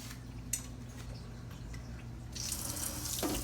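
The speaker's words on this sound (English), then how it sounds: "Let me rinse this spoon off" Kitchen tap water running into a sink to rinse a spoon, a faint low hum at first, then the stream swells into a steady, close hiss for the last second.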